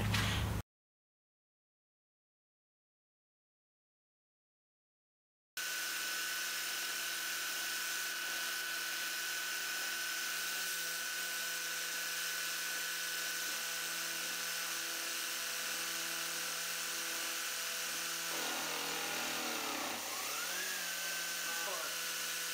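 A 50mm face mill cutting on a home-converted CNC milling machine gives a steady, loud whine with a continuous spindle hum after a brief silent gap, shifting in pitch near the end as the cut changes.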